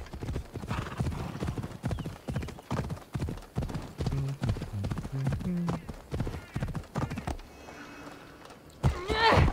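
Horse hooves clip-clopping in Assassin's Creed Odyssey, a rapid rhythmic run of hoofbeats with a whinny, while someone talks over the gameplay.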